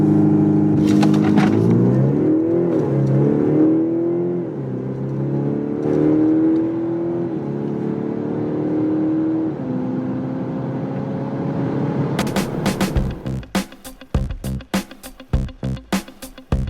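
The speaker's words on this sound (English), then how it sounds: "we also got that here in the acceleration test, which is about 5 seconds for a car that weighs 2 tons" A two-ton premium compact SUV accelerates hard in a performance test, the engine note climbing steadily through gears with a rising whir, then giving way to sharp knocking and clattering sounds near the end.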